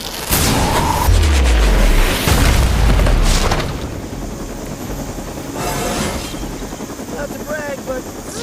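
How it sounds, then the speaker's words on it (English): In Marvel's Midnight Suns, heavy booming explosions strike loud and close in the first few seconds, then a helicopter's rotor hum and scattered battle effects continue more quietly. "The helicopter's about to leave."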